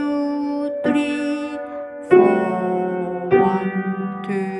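Piano playing Beyer exercise No. 70 with both hands together, a few sustained notes and chords entering one after another at a slow, steady pace, close and clear with no talking.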